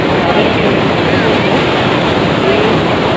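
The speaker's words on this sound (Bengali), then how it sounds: "এই যে জলোচ্ছ্বাসটা না, এই জল তো কুল কিনারা নেই" Ocean waves surge onto a beach at dawn, a dense continuous wash of surf with wind buffeting the microphone, loud and close throughout.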